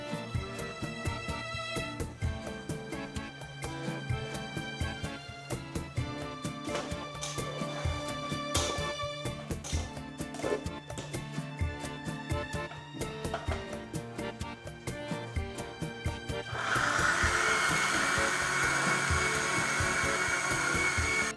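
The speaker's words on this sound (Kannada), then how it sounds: "ಈಗ ರುಬ್ಬಿದ ಕೆಲಸ ಆಗಿದೆ. ನೈಸಾಗಿ ರುಬ್ಕೊಳ್ಳಿ" A mixer grinder grinds sambar masala paste for a brinjal, potato and nuggekayi sambar, whirring loudly and continuously with rattling pulses, then rising to a higher, steadier whine near the end.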